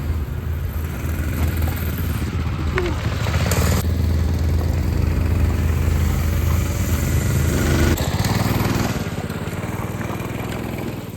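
A homemade mobility scooter's small motor runs steadily outdoors on a test drive, a loud buzzing engine drone that holds for most of the run and then eases off toward the end, with no talking.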